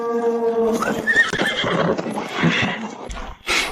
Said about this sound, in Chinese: 好多骑兵！